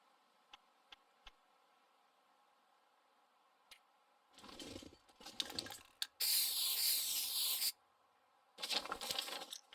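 A spray paint can marks surfaces in the survival video game The Long Dark, giving three hissing sprays, the middle one long and loud, after a few faint ticks in an otherwise quiet scene.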